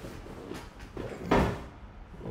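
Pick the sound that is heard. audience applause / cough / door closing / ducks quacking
door closing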